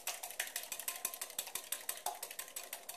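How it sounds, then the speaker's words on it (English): Whisk beating an egg in a bowl, a quick even run of light clicking and tapping strokes, close and fairly quiet, with no voices. "I've already put my egg in the bowl, and I'm just going to give it a little whisk."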